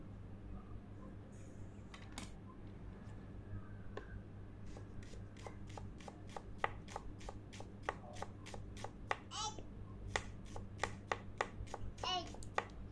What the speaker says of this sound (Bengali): সেই পরিমাণ পেঁয়াজ ইউজ করতেছি পাতলা করে কাটছি